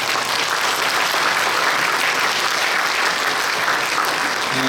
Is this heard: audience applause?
yes